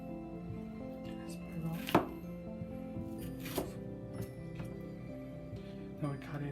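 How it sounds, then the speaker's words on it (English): A knife chopping a peeled yellow onion on a cutting board, quiet, irregular close knocks with a couple of sharper cuts, while a voice talks throughout. "we cut the onion, the yellow onion"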